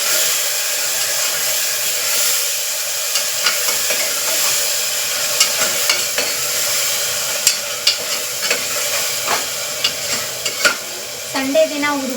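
Garlic fries in a pan while being stirred: a continuous close sizzle with irregular scraping stir strokes that grow more frequent toward the end, with no talking.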